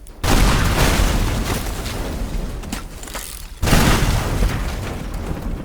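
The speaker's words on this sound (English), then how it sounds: "There's so many explosions." Explosions in the destruction game Teardown: a dense, loud roar of blasts and rumbling debris, with a brief dip before another heavy burst of booms.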